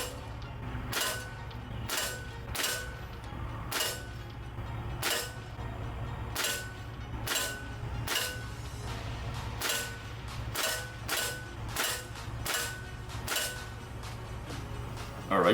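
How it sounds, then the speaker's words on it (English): A Crosman 1377 air pistol fitted with a stock firing pellets at a target: about twenty sharp, evenly spaced pops, roughly one every 0.7 seconds, over a low steady background hum. "We're going to shoot this gun at the same target with the same iron sights"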